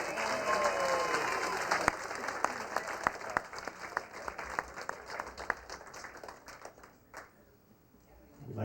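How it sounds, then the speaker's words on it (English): Wedding reception guests at L'Auberge Del Mar in San Diego applaud as a bridesmaid and groomsman are introduced; steady moderate clapping from a room of people with scattered sharp claps, fading out near the end. "a nice round of applause, please, for bridesmaid Kara Brem on the arm of groomsman Timothy Work Jr."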